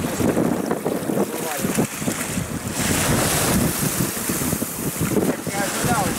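Storm surf on a stony shore during a fishing trip, waves crashing and rolling stones along the beach under strong wind buffeting the microphone, loud and continuous with no talking.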